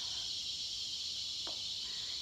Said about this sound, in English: hey cicadas